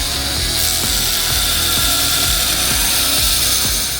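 Grinder shaping the double-edge bevel of a hand-forged steel knife blade, a loud continuous abrasive whir with a regular pulsing thump beneath it, close and without pause.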